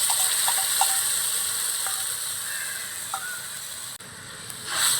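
Yogurt whisked with spice paste hits a hot pan, giving a steady bright sizzle of frying with a few faint clinks and stirring scrapes, loud and close throughout.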